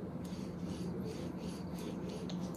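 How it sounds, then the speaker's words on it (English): A roller bevels the edge of clay, a soft, steady close-up rubbing and rasping that keeps going for a couple of seconds with small rhythmic surges. "I use this kind of roller and I simply bevel"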